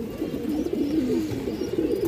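A green-necked female pigeon coos in a steady, low, rolling call that runs unbroken, close and moderately quiet, with no voices.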